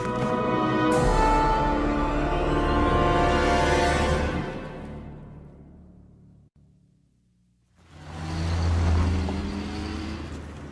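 Animated cartoon race cars roar past, with a rising engine whine that fades out midway before a second engine surge returns close and loud.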